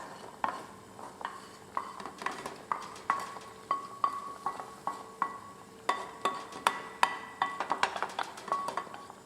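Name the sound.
tarka (fried garlic and onion) added to dal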